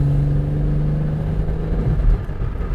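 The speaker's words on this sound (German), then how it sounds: "Wenn wir jetzt mal ein bisschen beschleunigen" A VW Golf 3 VR6 gathers speed, its engine a steady mid-pitched drone heard from inside the cabin, rising slightly as the hum shifts.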